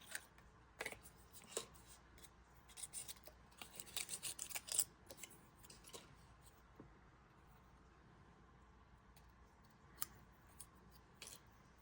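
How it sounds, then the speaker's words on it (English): Scissors cut around a paper circle, with quiet, close snips that come in a quick cluster of rapid cuts, then thin out into scattered single snips. "I'm just cutting around it."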